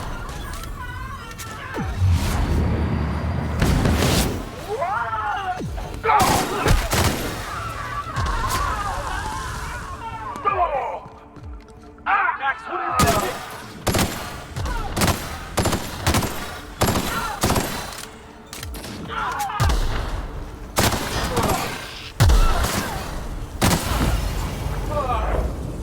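Video game gunfire crackles in rapid bursts and single loud shots, some close and sharp, separated by short pauses, while voices shout and talk amid the shooting.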